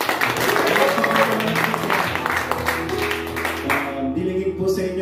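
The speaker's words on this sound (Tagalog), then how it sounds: "Sa malakas na palakpak sa aming Diyos" A church congregation at a Bible sharing gathering claps loudly together, with the applause tapering off toward the end over a faint musical hum.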